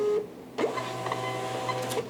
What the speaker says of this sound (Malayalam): അപ്പോൾ നമുക്ക് നല്ലത് നോക്കി 2-3 പ്രിന്റ് ചെയ്തെടുക്കാം.